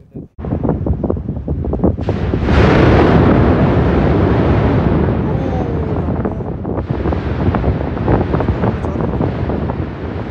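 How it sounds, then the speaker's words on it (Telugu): A volcanic eruption at Mount Yasur, Vanuatu, an active volcano: a sudden loud blast about two seconds in swells into a sustained, roaring rumble, heard close with heavy wind buffeting the microphone and no talk. "బాంబు పేలినప్పుడు లావా బయటకు వచ్చి చింపుతుంది, పొగలు పొగలు వస్తాయి"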